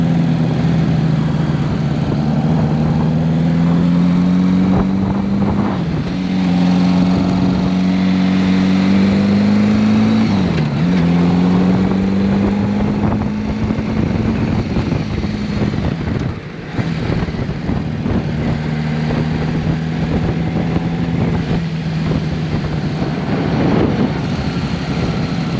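A 1980 Honda Goldwing GL1100 motorcycle with freshly rebuilt carburetors rides along, its loud, close engine droning steadily and rising and falling in pitch as it accelerates and eases off, with no talking.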